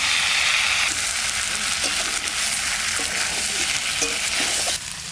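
Cauliflower florets fry in a pan with cumin and coriander paste. A dense sizzle runs throughout with light stirring knocks over it, and it eases slightly right at the end.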